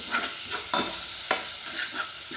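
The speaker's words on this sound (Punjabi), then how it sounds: "ਹਲਕਾ ਜਿਹਾ ਆਪਾਂ ਇਸ ਨੂੰ ਭੁੰਨਾਂਗਾ ਬੇਸਨ ਨੂੰ" Gram flour (besan) is lightly roasted in a pan, with a soft steady sizzle and a few crisp spoon scrapes and taps close by.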